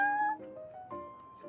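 Harmonic cat meows from the video game Genshin Impact, set in the Cat's Tail tavern: several short, close mews in quick succession, clear and alone with no talk.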